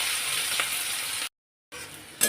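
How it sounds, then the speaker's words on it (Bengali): Chopped onion sizzling in hot oil in a pan, a steady close frying hiss that cuts out briefly and then resumes, with no talk. "পেঁয়াজ ভাজা হয়ে গেছে"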